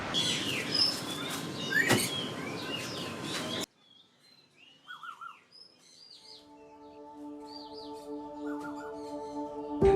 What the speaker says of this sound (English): Seeing hundreds of highly intelligent parrots and parakeets obviously in distress and suffering